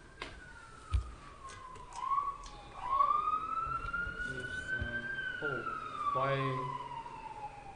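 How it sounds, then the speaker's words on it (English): A siren wails outside, rising and falling at a moderate distance, with a few brief spoken words and small indoor noises over it. "why the car? The siren."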